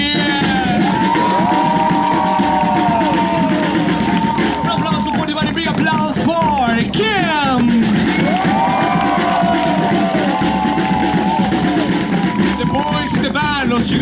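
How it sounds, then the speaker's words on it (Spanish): Audience cheering and applauding at a resort fire-and-water show, loud and sustained crowd noise with shouts, under an announcer calling out performers over music. "Un gran aplauso para el big applause for Osiris."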